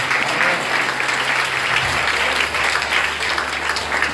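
Steady, full applause from a congregation at a Saint Ignace de Loyola parish vigil, continuous and loud with a low hum underneath.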